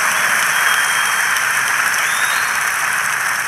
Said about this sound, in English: Give the Lord another big clap offering.